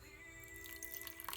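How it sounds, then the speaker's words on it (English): A small amount of water drips into pie dough in a bowl, faint soft drops and light splashes over a steady low hum. "we just want a tad more water in there"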